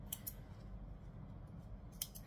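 Scissors snip crisply several times, close and quiet, trimming fabric for a sewn saddle bag, with sharp short cuts clustered at the start and end over a faint low background hum.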